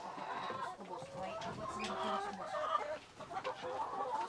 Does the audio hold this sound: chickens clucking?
yes